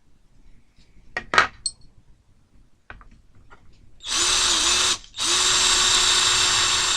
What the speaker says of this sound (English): I'm just going to switch drill bits now to obviously a sharper one that'll purchase on the plastic a lot better